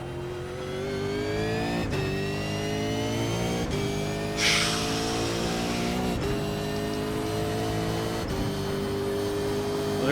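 A V8 Supercar race car engine in the iRacing sim at Sebring, loud and close, revving hard through repeated upshifts with sharp gear-change breaks and a brief hiss of tire noise midway, with no talk.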